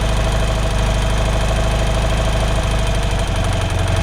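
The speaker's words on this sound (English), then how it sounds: "So we go back and we find the point at which the engine's going fastest." A BMW R75/6 air-head boxer twin idles steadily and loudly up close during carburettor tuning. The engine gives a continuous rumbling throb with a slight shift in pitch partway through.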